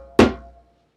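A single bass stroke on an African hand drum: one deep, full thump with a sharp attack that rings briefly and decays within about half a second, close and alone.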